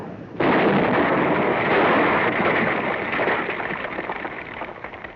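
A gun or artillery piece fires in an Antarctic ice-sounding setting: a sudden loud blast erupts, then a dense roaring rumble lingers and slowly fades over several seconds.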